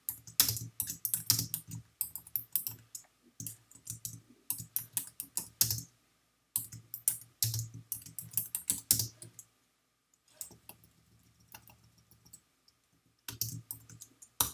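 Clicky typing on a computer keyboard, quick bursts of keystrokes broken by short pauses, close and fairly faint with no talking.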